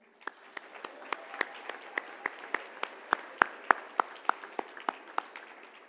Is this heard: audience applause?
yes